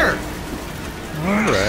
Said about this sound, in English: She's on fire!